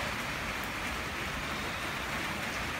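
Soft, even hiss of rain falling in Bulung'ur, a steady fine patter with no distinct drops standing out, faint and unbroken throughout.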